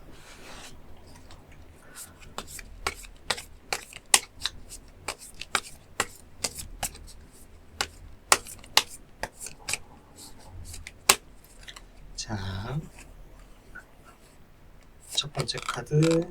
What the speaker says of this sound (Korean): 한번 카드 뽑아보도록 하겠습니다